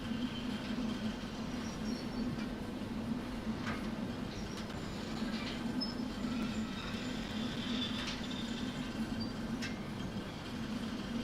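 Freight cars and a caboose rolling in the Derail Valley train simulator produce a continuous low rumble of wheels on rails, with faint metallic clicks and squeals scattered throughout and no speech.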